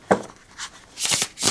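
Riffle shuffling of 350 GSM tarot cards, heard as a short ruffling burst of card flutter, then a louder double ripple of cards and a final riffle building up at the end, close and with no talking.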